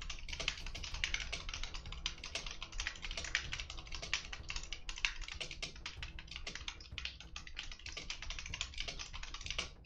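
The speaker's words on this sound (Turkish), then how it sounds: "Klavye sesi çok geliyor değil mi yayına?" Rapid computer keyboard typing during a Tanki X gaming session, a dense run of close, crisp key clicks going on steadily for about ten seconds with no talking.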